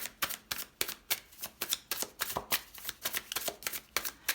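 Tarot cards being shuffled and dealt: a brisk, steady run of close, crisp card snaps and flicks, repeating about every half second, with no talking over them.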